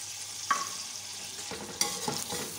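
Mutton fries with whole garam masala spices (green cardamom, black pepper, cloves and cinnamon), a low steady sizzle punctuated by a few close scraping stirs of a spoon in the pan.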